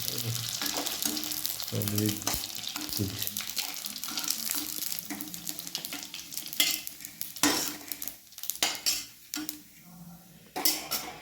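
Puchka (fuchka) shells fry in hot oil with a close, busy sizzle. It is mixed with stirring and clinks of utensils against the pan, thinning out into sporadic crackles and clatter toward the end.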